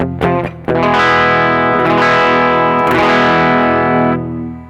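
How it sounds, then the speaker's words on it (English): Heavily overdriven electric guitar played through a Brothers AM pedal into an amplifier: a loud, sustained distorted chord rings out with rich harmonics after a short attack, holding steady for about four seconds before cutting off. "So this is just putting a massive guitar signal into the amplifier."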